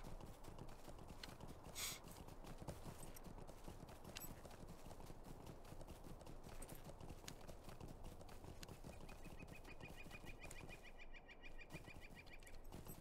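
Horse hooves in the game Lord of the Rings Online clop steadily at a walking pace, soft and continuous, with faint ambient game sounds and a brief chime near the end.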